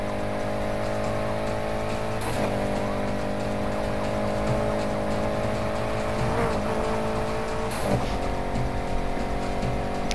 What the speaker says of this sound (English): I got this Lotus at 300 now.